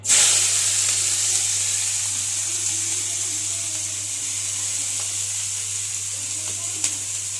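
Greens cooked with green chillies sizzle steadily in a hot pan, a continuous bright hiss with a low hum underneath and a few faint clinks, lasting throughout.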